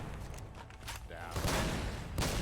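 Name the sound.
gunfire in the video game Fallout New Vegas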